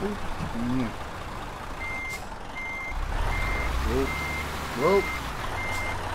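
A truck in the video game Euro Truck Simulator reverses into a parking spot, with a steady series of evenly spaced electronic reversing beeps over low engine rumble while people talk.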